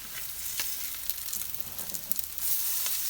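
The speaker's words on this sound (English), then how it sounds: "And now we have our salmon cooking. I got 4 patties in here." Four salmon patties fry in oil in a pan, giving a steady, close crackling sizzle with scattered sharper pops throughout.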